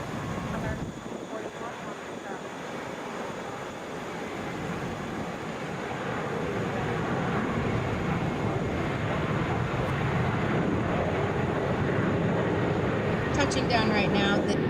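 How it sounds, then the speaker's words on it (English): A Delta Air Lines 717 jet touching down at Atlanta airport, a steady broadband roar that swells and holds loud across the stretch, with wind noise and distant voices underneath. "Touching down right now, this is Delta Flight 1727 coming in from Asheville."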